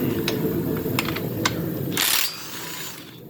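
Ratchet clicking on motor mount bolts of a turbo 3800 Camaro, several short quiet metallic ratcheting bursts over a low background hum.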